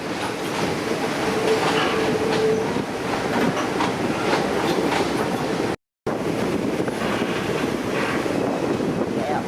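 A 1940 vintage passenger train rolls along the Hiawassee River Scenic Railroad, a steady near rumble with clickety-clack of wheels and wind buffeting the microphone, interrupted by a brief dropout.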